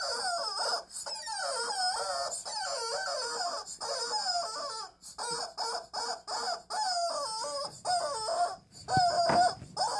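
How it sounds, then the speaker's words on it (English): A chicken clucks and crows in long, continuous squawking phrases, loud and close, with only brief gaps over a steady high hum and no talk. "I hate this goddamn chicken"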